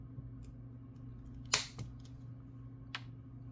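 A jewelry chain for a magnesite blue turquoise necklace is snipped with cutters: one sharp close click, a smaller follow-up snap, and another crisp cut a moment later, against quiet background hum.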